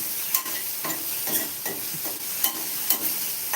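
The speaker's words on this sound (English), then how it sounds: "I'm going to stir this well" Sambhar is stirred in a cooking pot, with a bright, steady sizzle broken by several sharp, close scrapes and clinks of the spoon, and no voices.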